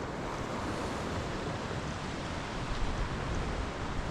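Continuous broadband wash of sea waves on the Scottish island of Tiree, steady and fairly close, mixed with wind buffeting the microphone and no voices.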